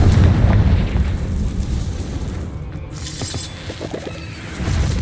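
A Confringo spell explosion in Hogwarts Legacy makes a loud booming rumble that swells at the start, then fades into crackling debris and settles into a low roar.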